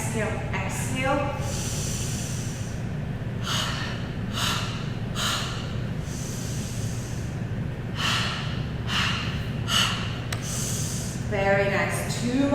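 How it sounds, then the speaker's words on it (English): Forceful, rhythmic exhalations during a classical Pilates extension exercise, a series of sharp breathy bursts over a steady background hum. "on your extension here, you want to inhale. Exhale, exhale, exhale."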